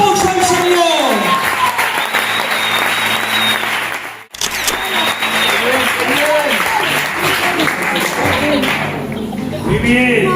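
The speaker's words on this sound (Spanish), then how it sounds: "Dale un aplauso al Señor." Church congregation clapping loudly and steadily, the dense applause briefly cut short before resuming, while a voice speaks over it and a tone rises and falls in the background.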